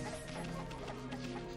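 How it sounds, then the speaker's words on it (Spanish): Chickens cluck softly in the video game Okami, a short run of faint, scattered clucks over a quiet game background with no talk. "Pero puedo darle de comer a las gallinas."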